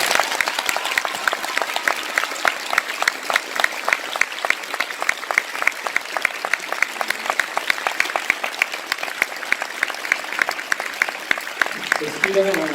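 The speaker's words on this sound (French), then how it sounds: "Vous pouvez l'applaudir très fort." An audience at a masterclass in France claps steadily and loudly for over twelve seconds, a dense even wash of hands with no break until a faint voice at the very end.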